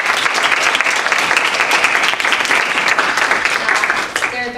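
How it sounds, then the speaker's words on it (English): A panel audience of school counselors claps in steady, dense applause that stays loud and even throughout before thinning slightly at the end. "let's a round of applause for everyone"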